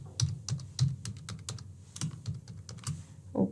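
Someone types a password on a computer keyboard, producing a quick, irregular series of close, crisp key clicks with no talking.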